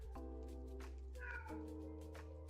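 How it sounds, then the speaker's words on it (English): A pet cat gives a few drawn-out meows close by, sitting over a low steady hum in a quiet room. "Oh shit, my cat's here."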